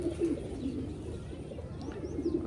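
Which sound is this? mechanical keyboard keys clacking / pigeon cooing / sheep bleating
pigeon cooing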